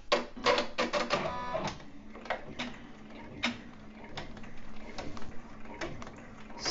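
A multi-needle embroidery machine stitches an in-the-hoop Christmas treat bag in a Mighty Hoop, giving quick bursts of rapid mechanical clatter that come and go in an uneven rhythm over a low steady hum, close by with no talk.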